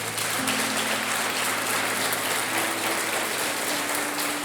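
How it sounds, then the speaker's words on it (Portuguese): A church congregation bursts into dense, steady applause, a loud continuous wash of many hands clapping together, with a faint low hum underneath and no speech. "Você era para ter aplaudido a Jesus agora."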